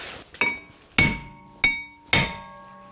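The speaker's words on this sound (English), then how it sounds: "Now getting our rotor off, you want to take a hammer or something to beat on it with." Four sharp metallic hammer strikes on the front brake rotor of a 2007-2011 Toyota Camry, spaced unevenly, each ringing briefly before fading; close and loud, no talking.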